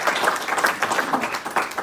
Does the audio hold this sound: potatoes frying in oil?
no